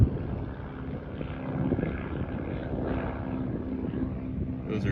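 A distant World War II Stearman propeller biplane drones overhead, a low steady hum with faint wind noise, no clear speech.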